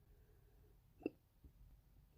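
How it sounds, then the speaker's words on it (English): A single sharp hiccup from a person at an acrylic paint pouring session, brief and fairly quiet, alone amid faint room noise. "Excuse me, I got the hiccups."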